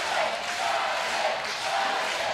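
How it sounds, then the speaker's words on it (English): A New Hampshire crowd at a Little League World Series elimination baseball game cheers loud and steady, a broad continuous roar with no pauses. "And the New Hampshire crowd is living it up."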